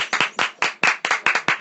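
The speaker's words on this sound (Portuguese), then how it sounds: "Aplausos. Aplausos." Hands clapping in a quick, uneven burst of about a dozen sharp claps, close and loud, from a small group.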